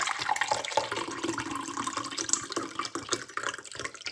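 Water running from a tap into a glass for a morning drink, a steady close trickle and splash lasting the whole moment with no talking.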